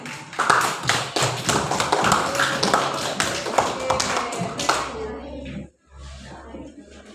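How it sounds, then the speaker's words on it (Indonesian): Classroom applause for two students, Bima and Kim, during a primary mathematics lesson on multiplication: many hands clapping loudly and steadily for about five seconds, then tapering off into room murmur. "berikan aplaus dulu dong untuk Bima dan Kim"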